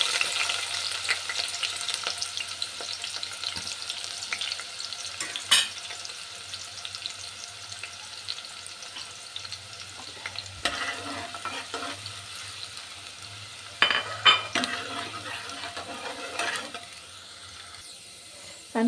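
Sliced onions fry in hot oil until crisp for beresta, a continuous close sizzle with occasional clanks and scrapes of a stirring utensil, then quieter toward the end.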